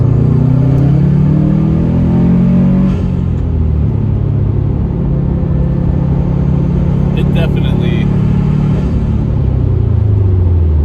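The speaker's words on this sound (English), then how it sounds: "I'm gonna go for a third gear pull here right now." A car fitted with a carbon fiber driveshaft pulls hard in third gear, its engine note rising steadily and close up as it accelerates, with a low rumble underneath.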